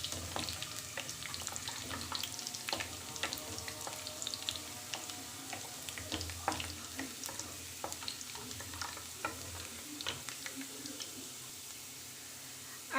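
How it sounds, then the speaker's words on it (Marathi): Bay leaf, cinnamon, cloves and peppercorns sautéing in hot oil for a Hyderabadi green chicken, giving a steady close sizzle with scattered crackles and stirring clicks throughout, no voices. "त्यामध्ये एक तेजपान टाकायचं, कलमी टाकायची, 2 लवंगा आणि मिरी, आणि त्याला सुद्धा छान परतून घ्यायचं।"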